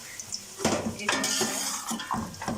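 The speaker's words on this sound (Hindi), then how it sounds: "2-3 मिनट तक अच्छे से फ्राई करेंगे" Carrots fry in oil in a pot for an Afghani Kabuli pulao, heard as clanking metal spoon scrapes and knocks against the pot over a light sizzle, close and uneven, with no talking.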